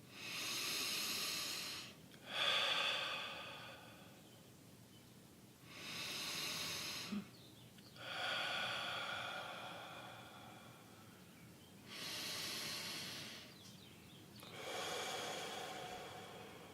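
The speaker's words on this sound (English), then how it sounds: "Breathing deeply in through the nose and out through your mouth." Slow, deep breaths drawn in through the nose and let out through the mouth, each long airy breath lasting a couple of seconds with pauses between, close and quiet.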